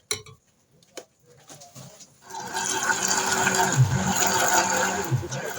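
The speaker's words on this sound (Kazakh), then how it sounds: "қайтадан блендерден өткізіп аламыз" A kitchen blender whirs through blackcurrant pulp mixed with water, kicking in after a couple of soft knocks and running as a loud, steady motor drone to the end.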